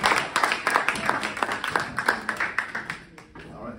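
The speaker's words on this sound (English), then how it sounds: "Let's give him a round of applause." Live audience applause welcoming a guest onstage at a finance educator's event, a dense run of clapping with scattered cheers that thins out toward the end.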